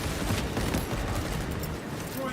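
Dense, continuous gunfire from a cooperative shooter video game, a loud sustained barrage of rapid shots over the whole moment, with no pause and some clatter of mechanisms in the mix.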